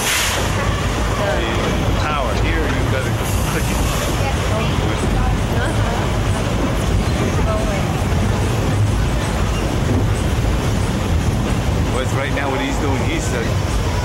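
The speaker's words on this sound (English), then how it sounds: "A point where he's slowing the locomotive down" A narrow gauge steam locomotive at Roaring Camp & Big Trees slows down with a loud, steady mechanical roar and rumble. People talk over the constant noise throughout.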